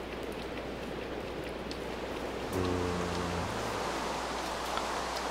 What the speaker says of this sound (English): It's raining, so that's not going to work anyway.